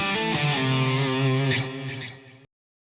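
Lead electric guitar tone from a Red Seven Leviathan preamp in a Line 6 Helix: a sustained, singing note line played loud and up close, then an abrupt cut to silence near the end.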